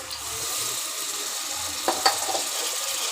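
Snail meat hits a pan of softened onions and fries with a steady, bright sizzle, a few small spatters and stirring knocks rising over the constant hiss, close up.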